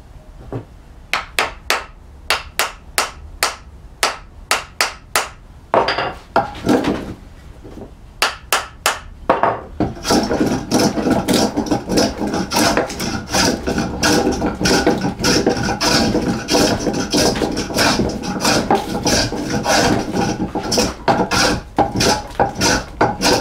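A hand plane shaves wood from chair rear stiles: separate rasping strokes come at first with short gaps, then they run together into a dense, continuous stream of close, loud shaving and scraping.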